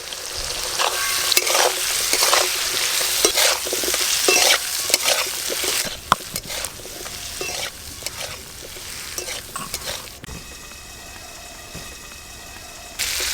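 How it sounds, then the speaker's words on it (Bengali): Potatoes sizzle in a pan with turmeric powder and salt while being stirred, for a Bengali rui fish curry. A dense crackle mixes with repeated scraping strokes and eases toward the end, when a brief rattle is heard. "আলু খুব ভালো করে ভাজা হয়ে গেছে"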